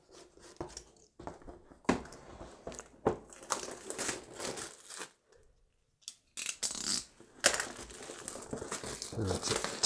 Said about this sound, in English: tear the shrink wrap off the box and see what it looks like inside there